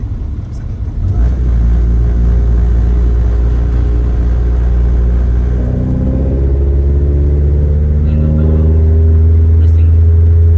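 A Honda Civic with a new exhaust burbles at a deep, loud idle, then the engine revs upward in rising surges before settling back into a heavy rumble.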